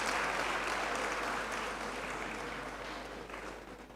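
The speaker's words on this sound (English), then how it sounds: "Let's give him a round of applause, please." Audience applause at a university graduation congregation ceremony in a great hall, a dense sustained round of clapping from a large crowd that slowly fades over four seconds.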